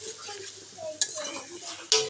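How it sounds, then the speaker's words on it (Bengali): Chow mein noodles being stirred in a pan: soft scraping and sizzling under a faint background, with two sharp metallic clinks of utensil on pan. "এখন আমি একটু লাড়ি।"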